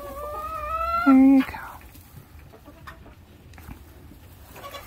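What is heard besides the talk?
broody hen clucking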